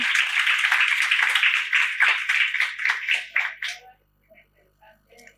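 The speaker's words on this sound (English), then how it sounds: "A round of applause for Robbie." An audience at an ICT gender-gap panel session applauds a panelist, a brisk burst of many clapping hands that fades out after about three and a half seconds, leaving a few faint scattered sounds.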